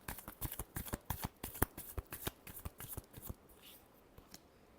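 A deck of tarot cards is riffled in a quick run of sharp, close riffling bursts for about three seconds, then the shuffling trails off into quiet handling, with no talking.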